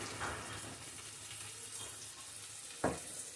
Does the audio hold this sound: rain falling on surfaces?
no